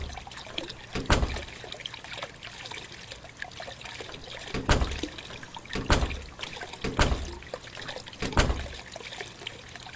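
A sink fills in The Crooked Man video game: water trickles and dribbles steadily, with occasional louder splashing pulses; moderately close, no voices.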